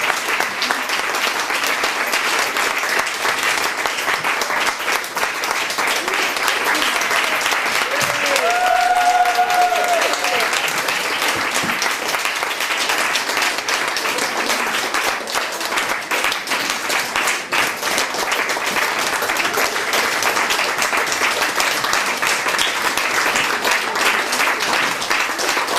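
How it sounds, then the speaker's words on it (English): A crowd at a union public meeting against cuts gives the mums a long, loud round of applause, dense sustained clapping that keeps going with a few voices calling out beneath it. "So I think we really need to give these mums a great round of applause."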